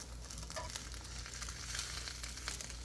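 Fire noodles with egg, cheese and sausage fry in an oiled pan, a faint steady sizzle with light crackles, close but quiet and alone.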